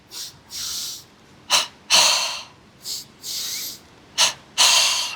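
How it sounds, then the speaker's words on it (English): Double breathing kriya pranayama: two quick nasal inhales followed by two forceful exhales through the mouth, heard as close, sharp airy bursts in paired rhythm, repeated twice with brief pauses between. "It's 2 inhales through the nose, 2 exhales through the mouth, like this."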